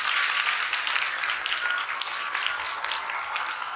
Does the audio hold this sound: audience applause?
yes